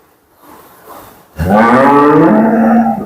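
A cow on a dairy farm gives one loud, long, close moo after a second of quiet background.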